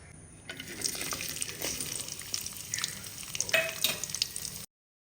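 Grated coconut sautés in hot coconut oil for a Kerala-style duck curry, a close, moderate sizzle with scattered crackles and spoon scraping against the pan, ending abruptly.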